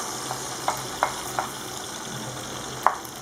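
Chopped onion frying in a pan for a veal tagine, a low steady sizzle punctuated by four or five light stirring taps, close up and without talking.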